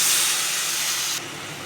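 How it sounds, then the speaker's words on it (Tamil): A sharp burst of steamy hissing as water is poured into hot chicken curry in the pan, dropping suddenly to a quieter simmer. "கொஞ்சமாக தண்ணி ஊற்றிடலாம்."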